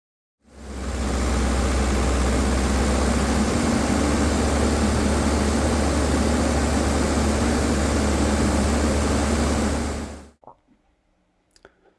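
A rebuilt Toyota diesel truck engine runs steadily and loudly for about ten seconds with a dense, constant drone and low rumble, then cuts off, leaving a few faint clicks.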